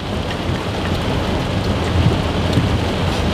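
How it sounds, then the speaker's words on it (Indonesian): Heavy rain pours down outdoors in a steady, dense roar that holds at the same loudness throughout, with no voices. "saat-saat ini di luar cuaca hujannya udah sangat deras"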